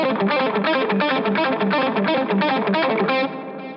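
Fast electric guitar run played with economy picking through distortion and chorus effects, a dense, rapid stream of picked notes at steady loudness that stops abruptly near the end.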